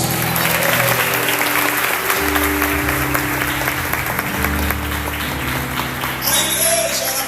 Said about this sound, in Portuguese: dê uma aplauso a Jesus.